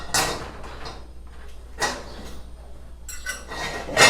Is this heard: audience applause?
no